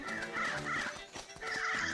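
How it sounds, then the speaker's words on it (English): Crows cawing in the video game Link's Awakening, a series of repeated harsh bird calls in a steady rhythm over busy game music, fairly loud and close. "These crows need to leave me be."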